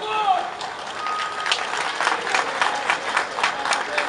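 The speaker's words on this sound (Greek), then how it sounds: "Αυτό το ήρεμο χειροκρότημα μου δίνει την ευκαιρία" A crowd at an outdoor election rally claps in a calm, steady patter, with voices mixed in beneath the applause.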